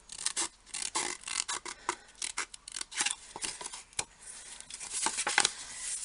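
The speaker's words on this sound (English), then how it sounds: "make your angle cut, flip it round and cut the small piece off" Scissors cut through pieces of card for a pop-up box card, a close series of crisp snips and rasping slices in quick, uneven bursts, with no one talking.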